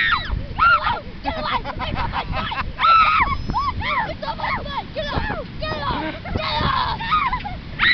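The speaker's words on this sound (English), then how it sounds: "I think they need more chips. I think the birds are hungry." Hungry seagulls squawk and honk repeatedly over chips at lunchtime, harsh calls overlapping in a busy flock close by, with people talking and laughing underneath throughout.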